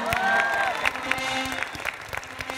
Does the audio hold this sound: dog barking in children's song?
no